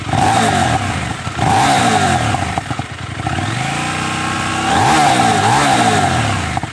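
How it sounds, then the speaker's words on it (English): A KTM 990 Duke parallel-twin motorcycle engine with stock exhaust revs up and down repeatedly with a throaty snarl, loud and close, with crackling pops from the exhaust between revs. "there's also a nice bit of snarl and some tasty pops from the stock exhaust system"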